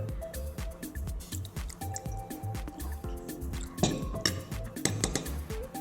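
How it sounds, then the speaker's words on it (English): White vinegar is spooned into tomato puree in a kitchen: soft wet drips and squishes with light clinks of a spoon against the bowl, close and fairly quiet, with no talking. "So we have 6 tablespoons of tomato puree here, to which I add 4 tablespoons of white vinegar."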